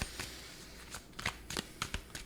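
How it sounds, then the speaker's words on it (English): Tarot cards being shuffled by hand, a series of quick, crisp riffling bursts in irregular rhythm, close and fairly quiet against a soft background hiss. "I need to shuffle a little bit more"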